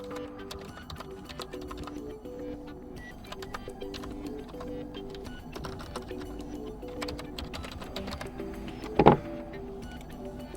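An email address is typed on a PC computer keyboard as rapid, close key clicks running steadily throughout, over a low hum, with one louder keystroke near the end and no speech.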